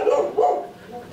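A five-month-old male rottweiler puppy gives two quick, close barks, the second trailing into a softer yelp.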